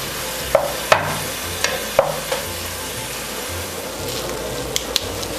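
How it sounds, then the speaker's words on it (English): Partially frozen meat being chipped and stirred in a sizzling pot for Sunday Italian tomato sauce, with a steady fry hiss under a handful of sharp scraping knocks spaced irregularly. "Our meat is unfortunately partially still frozen, so we're chipping away out of here to try and get the frozen thawed"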